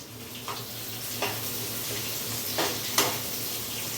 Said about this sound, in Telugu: ఆనియన్స్ కొంచెం ఫ్రై చేసుకున్న తర్వాత అది లైట్ బ్రౌన్ కలర్ వచ్చేదాకా ఫ్రై చేయాలి